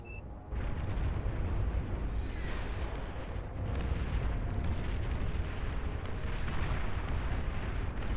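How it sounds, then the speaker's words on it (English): Continuous barrage of plasma cannon explosions and heavy booms in the real-time strategy game Beyond All Reason during an 8v8 battle, dense and loud throughout with rumbling low-end blasts layered on top of each other. "Long-range plasma cannons are targeting your units."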